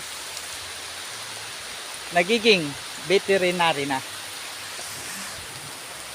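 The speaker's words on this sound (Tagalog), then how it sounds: "Lakas na ng ulan." Heavy rain falls steadily as a soft, constant hiss throughout, with a short burst of talk partway through.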